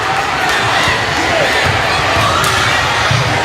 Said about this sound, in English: And the crowd goes berserk.